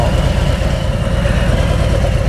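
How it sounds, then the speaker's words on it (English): A warmed-up Harley-Davidson Tri Glide M8 motorcycle engine idling at about 930 RPM, a loud, close, steady low rumble with an even pulsing throb and no revs. "your bike's already warmed up and idling at, mine's idling at about 930 RPMs"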